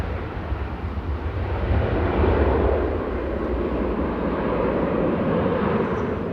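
An airliner departing Manchester Airport for Malaga as flight 809 gives off a steady, deep engine roar with heavy low rumble, building slightly after the start and then holding even and continuous, with no talk.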